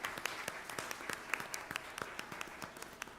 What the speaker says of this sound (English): Let's give our panelists a nice warm round of applause.